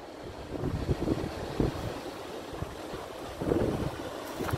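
Wind and Atlantic waves roll along the rocky northern coast of Tenerife near Chamorga, a steady, moderately loud rushing with surges of surf and microphone buffeting and no voices.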